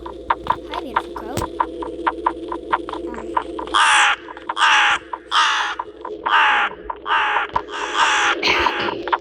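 A crow caws several times in a scary video game, loud harsh repeated calls in an irregular rhythm over a steady electronic hum and faint ticking.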